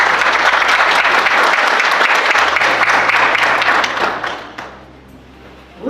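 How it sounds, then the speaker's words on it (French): Audience applause at a cryptocurrency launch event, a loud, dense burst of many hands clapping that holds steady, then fades away over the last second or two. "Applaudissez."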